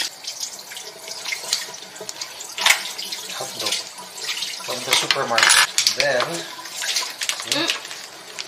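Tap water running into a sink while food is washed, a steady close splashing stream with clinks of items being handled and people talking over it.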